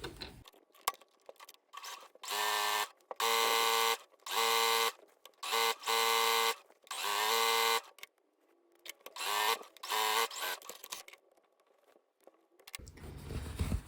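A sewing machine runs along a folded leggings hem in a series of short, humming bursts with brief stops between them, ending in a low rumble.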